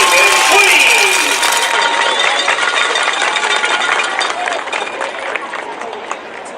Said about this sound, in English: let's give another round of applause to your 2021 Pewitt Homecoming King and Queen